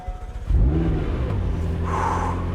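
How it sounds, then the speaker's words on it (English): A 2020 McLaren GT supercar engine fires up with a sudden loud crank, sweeps up through a brief rev flare, then settles into a deep, steady idle rumble close by. "Now, getting in this car and starting it up,"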